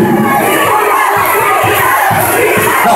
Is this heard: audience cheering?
yes